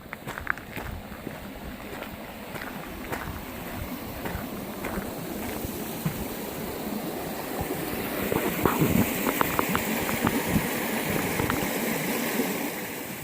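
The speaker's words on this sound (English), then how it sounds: "Beautiful waterfall here." Waterfall at Tarra Falls on a forest trail, a steady broadband rush of falling water with footsteps crunching along the path, holding constant and growing slightly louder toward the end.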